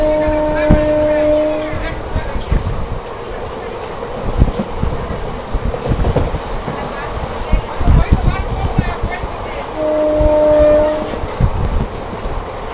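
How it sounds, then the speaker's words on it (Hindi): An electric express train crosses the new Pamban sea bridge toward Rameswaram, its wagons rumbling and clattering loudly with bursts of horn tones near the start and again later, while people talk over the noise. "लेकिन अच्छी स्पीड से ट्रेन निकली है"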